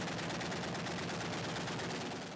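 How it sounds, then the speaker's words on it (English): Heavy, continuous automatic gunfire crackles through street fighting in Tripoli, Libya, a dense unbroken roar of rapid shots with no pauses. "Heavy gunfire can be heard and loud explosions."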